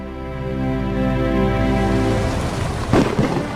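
Steady rain pours down while a deep rumble of thunder rolls through, swelling and then cracking near the end.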